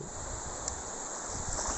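Ocean waves wash up on Daimezar Beach near Gwadar, giving a soft, steady surf hiss with a light touch of wind and no voices.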